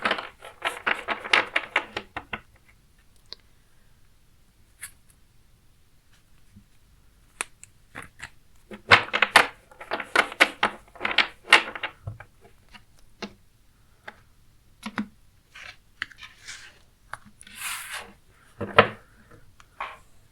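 Tarot cards handled and drawn from a deck give quick clusters of soft ticking, rubbing card sounds, close and quiet, separated by near-silent pauses.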